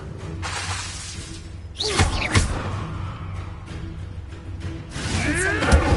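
Incendio fire spell cast in Hogwarts Legacy, bursts of whooshing, crackling flame and shattering impacts, with a sharp blast near the middle and another surge at the end over a low game ambience.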